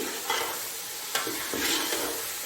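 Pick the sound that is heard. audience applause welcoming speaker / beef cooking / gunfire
beef cooking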